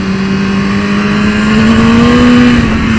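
A 2015 BMW S 1000 RR sportbike pulls hard in second gear, its engine note climbing steadily in pitch as it accelerates, loud and close with no voices.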